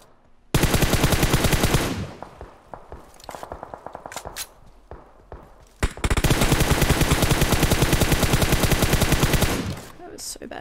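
Full-auto gunfire in the shooter game PUBG Mobile: a long loud burst, then scattered shorter bursts and single shots, then another sustained loud burst of rapid shots that tails off near the end.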